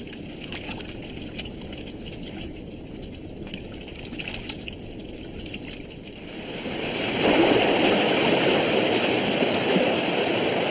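Steady rushing of a Siberian stream in spring, swelling louder and fuller partway through as the stream's roar becomes more prominent.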